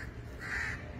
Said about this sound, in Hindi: कौवे बोल भी रहे हैं